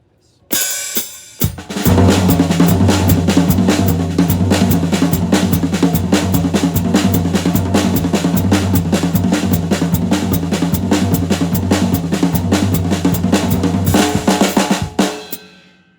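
A full drum kit plays the verse beat of a Cajun tune: a few opening strikes, then a dense, steady groove of cymbals and drums running about thirteen seconds before cutting off, loud and close, with no talk.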